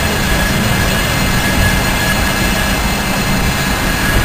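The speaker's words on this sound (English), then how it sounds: "You're going to feel the train making a turn." A loud, steady rumble and rushing roar of a monorail train running on its track and turning, with a faint high squeal from the wheels.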